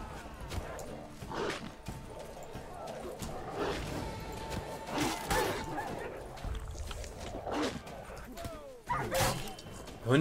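Dogs bark in the video game The Witcher 3: Blood and Wine at an enemy camp: a string of quick, yappy barks and yips at mid distance that rise and fall over several seconds amid game noise, with a voice talking over them.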